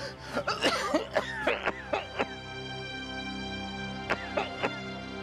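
A person coughs repeatedly in short harsh bursts, a cluster of coughs followed by a pause and two more, close to the listener.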